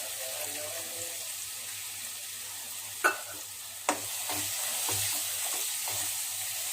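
Spiced masala for mushroom biryani sautéing in a pan with chili powder, garam masala and curd, giving a steady soft sizzle with two sharp utensil knocks and a few light scraping stirs.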